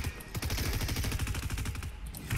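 Rapid automatic gunfire in the Fortnite video game, a dense run of close, evenly spaced shots lasting about two seconds, with no talking over it.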